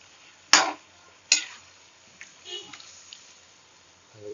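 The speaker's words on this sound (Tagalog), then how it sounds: "Haluin lang siya." Chicken adobo with soy sauce is stirred in a pan, a few scraping clinks and wet sloshing sounds, two sharp strokes followed by softer ones, with faint talk in the background.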